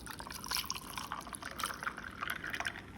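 Chilled, boiled-and-cooled milk poured into a glass for cold coffee, a soft continuous liquid pour with gentle trickling and dripping, close and fairly quiet throughout.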